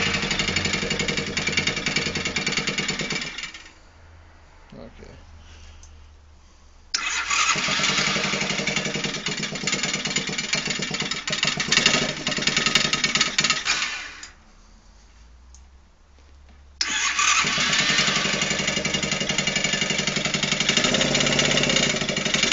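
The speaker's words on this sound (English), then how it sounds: "this is a cold start of the mini quad" A mini quad ATV engine, sitting unused for months in snowy December, is cold started by pull, runs with a buzzing idle, dies, and restarts, with two runs broken by quiet gaps.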